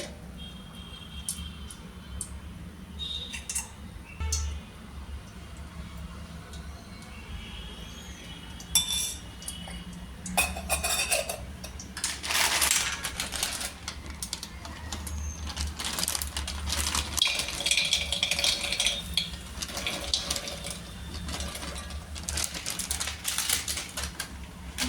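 Makhana roasts in ghee in a pan, with light clinks and scraping of a utensil against metal and the rattle of puffed seeds, sparse at first and then busier and louder toward the end.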